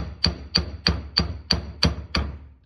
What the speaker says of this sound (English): like the brass hammer because you might see some flakes coming off